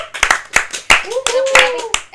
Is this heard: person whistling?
no